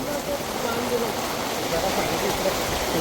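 Floodwater from a swollen village river rushes in a steady, dense broadband roar, continuous and fairly loud throughout, with no clear voices over it.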